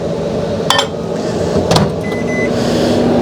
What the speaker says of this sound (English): I'm going to get this heated up in the microwave